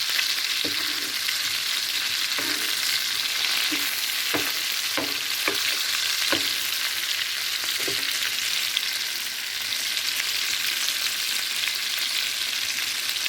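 Large fish pieces fry in hot oil with a constant bright sizzle, broken by a series of soft knocks and scrapes as they are turned in the pan, with no voices.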